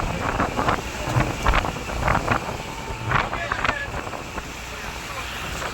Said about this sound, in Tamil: முன்னாடி ஒரு போட்டு ஓடுது. நாங்களும் ஓடுறோம்.